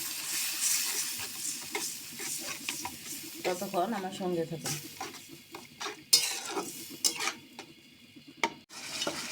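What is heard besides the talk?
spice paste sautéing in a pan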